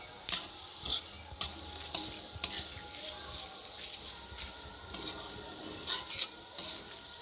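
Dried red chilli, bay leaf and Bengali five-spice fry in hot oil with a soft, faint sizzle, punctuated by sharp spatters and crackles and a few clinks of stirring.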